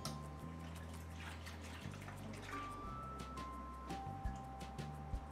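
Water draining from a pet rat's bath tub, a steady wet gurgling wash with faint drips and trickles, mid-distance and continuous, with a low background hum underneath.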